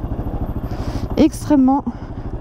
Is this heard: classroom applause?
no